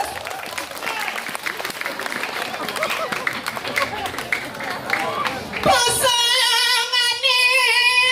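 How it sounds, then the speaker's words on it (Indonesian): A crowd applauds at a Balinese dance performance, clapping dense and steady for several seconds before amplified music with a sustained melodic line takes over. "tepuk tangan semeton"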